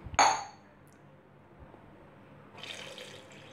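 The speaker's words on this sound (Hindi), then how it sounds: "अब हम इसमें पानी डालेंगे।" Tap water pours into a pressure cooker holding taro root (arbi), opening with a loud brief gush and clink, then a steady low filling rush that brightens toward the end as the level rises.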